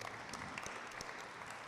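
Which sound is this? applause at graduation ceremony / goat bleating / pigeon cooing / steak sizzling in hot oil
applause at graduation ceremony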